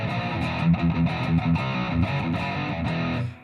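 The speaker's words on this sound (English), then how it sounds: "you could use this distortion for metal or just rock" An electric guitar plays through a Spark 40 amp with a Wampler plexi-style drive, a thick distorted rock tone with rhythmic chugging chords and short riffs, loud and alone for a few seconds.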